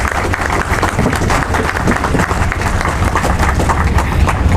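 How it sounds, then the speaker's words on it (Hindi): An audience at a formal session in India applauds continuously and loudly to welcome a guest, a dense steady wash of clapping. "तालियों के साथ आप भी स्वागत करें।"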